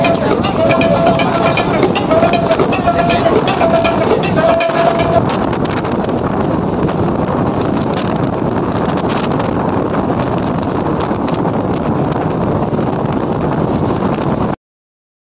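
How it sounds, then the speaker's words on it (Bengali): Roaring rush of the Santragachi to Digha special train running at high speed, a dense steady wind and rumble blasting past the microphone, loud and continuous until it cuts off. "দুর্দান্ত স্পিড ধরে নিয়েছে ট্রেন, এখন ট্রেন স্পিডে চলছে।"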